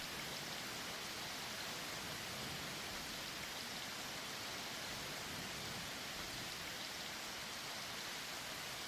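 Steady, dense rain hisses evenly throughout, a broad continuous wash with no distinct drops standing out and no voices.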